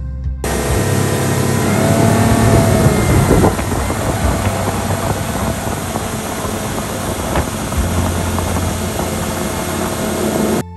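A boat engine drones steadily on a cruise trip to Lan Ha Bay, a loud, continuous rumble mixed with wind buffeting and water noise.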